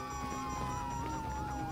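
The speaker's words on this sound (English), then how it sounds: "you hear that? Sirens." Police sirens in the video game GTA 5 wail in sweeping, overlapping tones over a low rumble of traffic, moderately distant and fairly faint.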